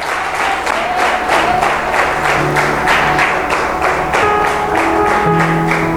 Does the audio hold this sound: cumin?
no